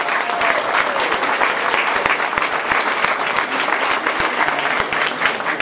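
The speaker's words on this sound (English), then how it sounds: "let's give a huge round of applause to the founding physician fathers of this hospital" Loud, dense audience applause at a hospital ribbon-cutting ceremony, steady hand-clapping from a large crowd sustained throughout without a break.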